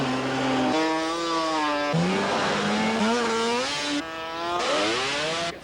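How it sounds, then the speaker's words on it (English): Drag-racing snowmobiles on a frozen lake, engines screaming loud and close as they rev up through repeated rising pitch sweeps with a short break between runs; no talking. "Perfect conditions to go drag racing snowmobile."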